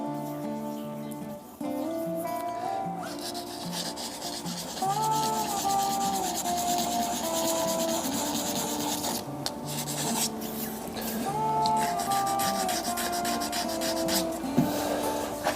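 A hybrid resin casting spins on a lathe while abrasive paper rubs against it in a continuous, even scratchy hiss, with tonal ringing from the lathe and shop in the background.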